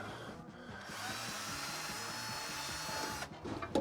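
A power drill whirs steadily for about three seconds into a 1939 Ford truck, then slows and stops, followed by a few light knocks.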